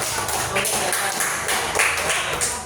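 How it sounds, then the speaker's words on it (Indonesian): Students in a classroom give a student group a round of applause. The clapping is quick, dense and fairly close, and carries on steadily for the whole short stretch. "Tepuk tangan untuk kelompok 1 yang sudah."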